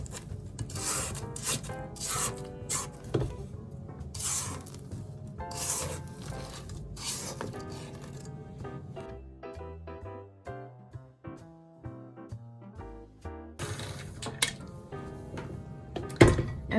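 Spatula scraping cupcake batter down the sides of a stand mixer bowl, a series of close rubbing and scraping strokes in irregular bursts with short pauses between.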